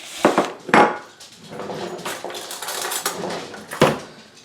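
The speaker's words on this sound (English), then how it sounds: "the easiest way to get the seed out is to put the knife down into it, and it'll pull it right out" A kitchen knife is struck into an avocado seed and twisted to pull it free, giving two sharp knocks near the start, a low scraping rustle, then another solid knock near the end, close and fairly loud.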